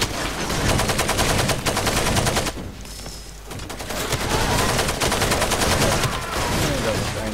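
Dense bursts of automatic gunfire in the Far Cry 2 video game, loud and close, rattling almost without pause, dropping out briefly midway before the shooting resumes at full force.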